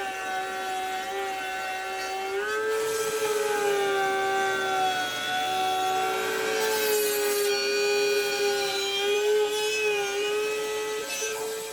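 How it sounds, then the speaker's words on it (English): A power tool cuts slots into wooden rails, a sustained whining tone that shifts pitch as the blade bites into the wood, loud and close throughout. "Next, I need to cut slots in the rails that I just made"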